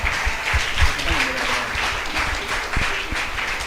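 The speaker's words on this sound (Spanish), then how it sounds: "Dale palmas al Señor." Congregation clapping in a church service, a steady dense patter of many hands with some rhythmic claps and a few voices mixed in, fairly loud and close throughout.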